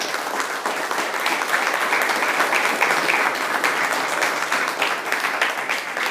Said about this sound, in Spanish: Pueden darle un aplauso a Dios por la fertilidad.